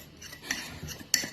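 Spoons clink and scrape against a mug while stirring pudding batter, a few faint, sparse taps over about a second, with no talking.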